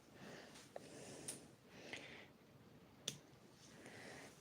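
A few faint, crisp little snaps with soft rustling between them as dry yellow leaves are broken off a houseplant, close by and quiet.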